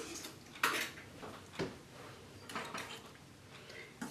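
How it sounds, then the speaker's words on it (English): Creamy coleslaw dressing being stirred in a bowl, heard as a series of clinks and scrapes of a utensil against the dish, several distinct knocks spaced irregularly, fairly close and quiet with no talking. "And after that, we stir the dressing up."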